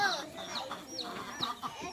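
A large rooster clucks repeatedly in short, choppy bursts, fairly close, with soft background noise.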